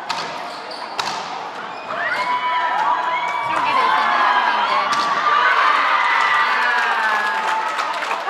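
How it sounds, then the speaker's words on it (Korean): Cheering from a nearby racquetball court carries into a squash match venue, a crowd swell that builds after a couple of sharp ball thuds and holds loud with shouting voices, while commentators talk over it. "지금 이 환호 소리는 뒤에서 뒤쪽 라켓볼. 라켓볼에서 나오는 환호 소리입니다."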